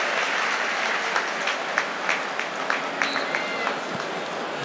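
Stadium crowd at a Premier League match between Brighton and Chelsea applauding warmly as a substituted player leaves, a broad steady wash of clapping with scattered sharper claps, a commentator's voice over it.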